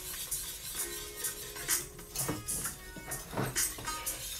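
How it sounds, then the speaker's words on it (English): A whisk beats a mixture with almond milk in a bowl, faint rhythmic ticking and scraping strokes repeating steadily, close but quiet, with no talk. "Keep whisking. The key to this dish is to continue to whisk."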